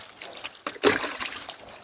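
Water poured over a pet dog's head during its bath, a short splashing gush that swells suddenly and then trickles on, close by and fairly quiet.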